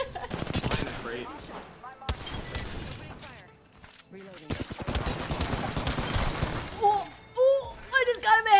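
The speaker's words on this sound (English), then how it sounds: "I just got him a headshot with the Mozambique" Gunfire from the Mozambique shotgun in Apex Legends, sharp loud blasts in irregular bursts amid game effects, with voices talking over the action.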